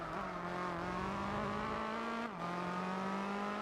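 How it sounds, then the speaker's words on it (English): Unmodified JGTC Supra race car in Gran Turismo 4, a steady high engine drone held at speed with a brief dip as a gear shifts, then the tone settles again. "This is an unmodified JGTC Supra"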